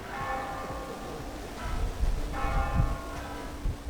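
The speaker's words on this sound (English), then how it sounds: "But the best part is the bells." Church bells ring with rich, sustained tones that swell and overlap over a rumbling low background, loud and resonant throughout.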